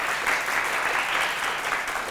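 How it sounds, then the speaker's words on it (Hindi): Audience at a stage show clapping, a dense steady round of applause from many hands that continues without a break. "इस बात पे भी तालियां बजा दीजिए"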